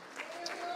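Brief applause from a church congregation during a Spanish-language sermon, a soft, steady patter of clapping hands with no voices heard.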